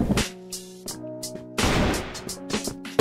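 Gunfire from a tactical shooter video game with a Barret rifle and USP pistol: several sharp, separate shots in an irregular rhythm, each followed by a short ringing tail, loud and close with no talking.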